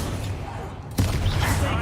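A Confringo blasting spell in the Hogwarts Legacy video game bursts into a sudden, loud explosive blast about a second in, followed by a rumbling, crackling tail amid battle noise.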